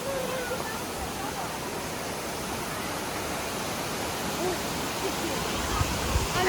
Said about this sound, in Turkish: Evet arkadaşlar burası Düden Şelalesi